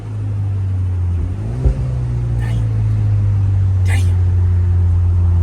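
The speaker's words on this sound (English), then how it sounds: "Downshift." A stock 2024 Ford Mustang EcoBoost Premium drones steadily from inside the cabin after a downshift, a loud low engine hum that rises slightly with a brief thump and then holds even.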